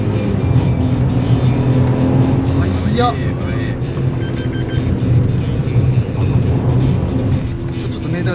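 Suzuki Alto Turbo RS kei car being driven, its engine and road noise forming a steady loud hum inside the cabin, while people talk briefly over it.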